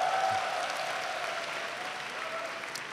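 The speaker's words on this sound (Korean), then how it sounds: "박수를 칠 때 쳐야지" Applause from an audience at a church retreat lecture, a dense, even patter of many hands clapping that holds steady for a few seconds before easing slightly.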